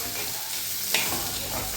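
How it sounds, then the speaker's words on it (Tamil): Tomatoes and onions frying in oil for a village-style chicken curry, a steady close sizzle with a brief stirring scrape partway through and no talking. "உப்பு போட்டு பெரிய சைஸ் தக்காளி வந்து ஒரு 2 தக்காளி, இதையும் போட்டு நல்லா எண்ணெய் நல்லா வணக்கிக்கலாம்."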